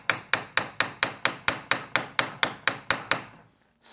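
A hammer strikes a plastic part from a failed electronic parking brake motor of a Renault Scenic 3 held in a vise, giving about a dozen loud, close, evenly spaced blows, then a pause.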